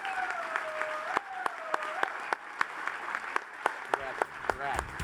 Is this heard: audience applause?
yes